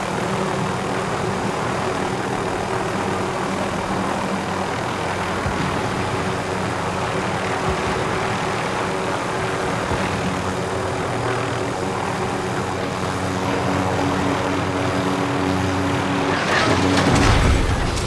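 Aircraft engine in the video game Warzone, a continuous loud propeller drone that holds steady and swells slightly near the end, with no talking over it.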